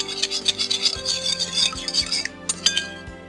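Spoon scraping and clinking against a bowl while a lemon chicken-wing marinade is mixed, a quick run of metallic clinks and rubs, a pause, then a few more taps, close and fairly loud.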